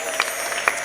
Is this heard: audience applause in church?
yes